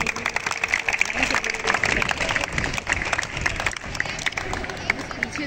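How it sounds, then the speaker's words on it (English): An audience at a school prefect inauguration at St. Bonaventure's High School, Hyderabad, claps for a newly named prefect, scattered sharp hand claps mixed with crowd murmur and a voice talking over them. "Talal Lagari, you can clap for him."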